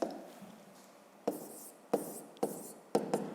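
A pen scratches out an answer by hand during a fifth-grade math subtraction exercise, with quiet continuous writing broken by several sharp, distinct stroke taps spaced about half a second apart.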